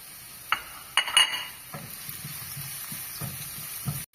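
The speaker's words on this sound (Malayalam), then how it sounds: "ഇഞ്ചി കുറച്ച്, പച്ചമുളക് ഒരു 2-3 എണ്ണം, വെളുത്തുള്ളി ഒരു 2-4 അല്ലി, വേപ്പില, ഇതെല്ലാം കൂടി ഇട്ട് നന്നായിട്ട് വഴറ്റുക" Ginger, two or three green chilies, a few garlic cloves and curry leaves sautéing in a pan for soya chunks, with scattered spatula scrapes and clinks over a low, steady sizzle, no talking.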